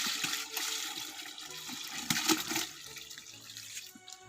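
Fermented fish liquid is poured out, giving a soft, uneven splashing and trickling at close range that gurgles briefly and then trails off.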